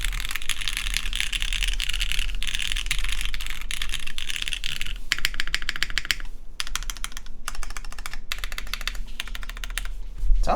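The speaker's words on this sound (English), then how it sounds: "This is a very nice sound. Let me talk about the typing feel a little bit." Rapid keystrokes on a custom RAE Aurum mechanical keyboard clatter steadily and up close, with bursts and short pauses, alone without talk.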